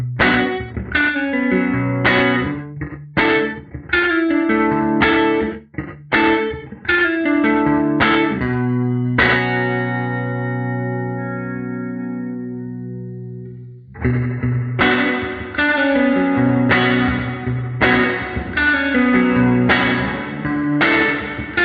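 Electric guitar through an EarthQuaker Devices Ledges reverb pedal set to room mode, giving a medium-to-large room ambience; strummed chords ring with a clear tail, one sustained chord decaying alone before strumming resumes, loud and close.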